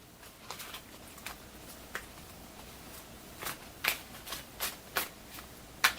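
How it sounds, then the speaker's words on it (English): Faint, crisp riffles and snaps of playing cards being shuffled, arriving in scattered bursts over a quiet background, closest and sharpest near the end. "Shuffle everything together."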